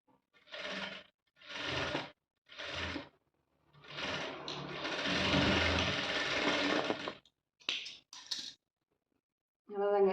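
A sewing machine stitches a pillow cover in short whirring bursts, then one longer continuous run and a few quick stops, fairly close and clear.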